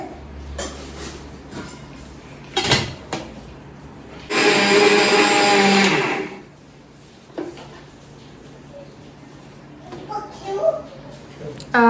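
Roasted peanuts and sugar are ground into fine powder in a kitchen mixer, a loud whirring burst lasting about two seconds between clatters of the jar and lid, with someone talking around it.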